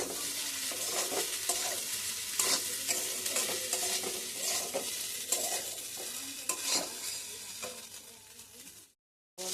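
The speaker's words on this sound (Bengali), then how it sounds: "আবার একটু মশলা দিয়ে দিচ্ছি তারপরে আবার ভালো করে এটাকে নাড়াতে হবে" Pasta stirred with spices in a hot pan: a loud continuous sizzle with repeated scraping and clattering strokes of a spoon, cutting off abruptly near the end.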